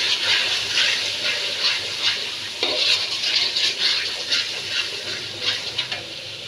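Shahi chicken roast masala being stirred and sautéed in a pan, giving a steady close sizzle with repeated scraping stir strokes throughout, no talking.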